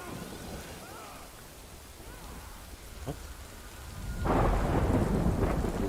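Thunderstorm in the video game Death Stranding: a low rolling rumble of thunder beneath steady rain, then a heavier surge of downpour hitting surfaces that swells louder near the end.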